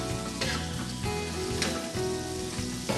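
Onions and peppers in olive oil frying in a pan, a loud continuous sizzle with crackling bursts, heard close and alone.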